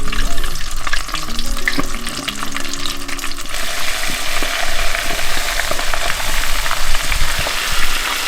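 Loud, steady sizzling and crackling of chicken wings deep frying in hot oil, a dense bubbling hiss that continues without pause.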